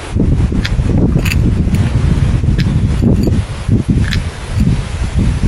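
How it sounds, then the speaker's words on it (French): Strong gusty wind blasts against the microphone, roaring and rustling steadily with brief flutters, loud and close, no voices. "Beaucoup de vent."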